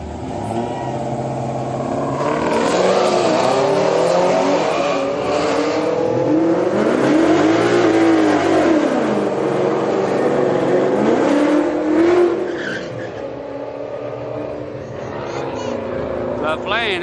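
Two street cars, a Ford Mustang and a Dodge, accelerate hard side by side at a street car night, with loud sustained engine roar building and holding before easing off, and people talking over it.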